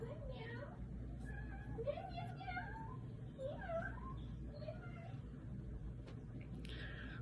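A cat meows repeatedly in a rising, drawn-out series of calls, close and clear over a steady low background hum, with no talk over it.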